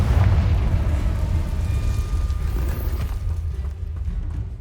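A Confringo fire spell explodes in Hogwarts Legacy, a loud rumbling blast with a heavy low-end boom that fades gradually over several seconds, with no talking.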